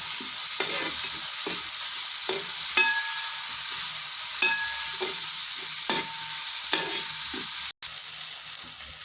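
Onion frying in a pan as chopped tomato and green chili go in, stirred with repeated scraping strokes over a steady close sizzle, no voices.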